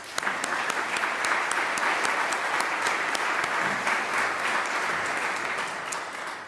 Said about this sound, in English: Let's stop, take a moment, and celebrate that accomplishment with your applause.